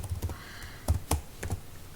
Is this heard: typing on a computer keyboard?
yes